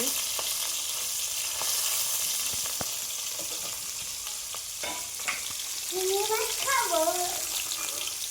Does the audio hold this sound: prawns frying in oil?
yes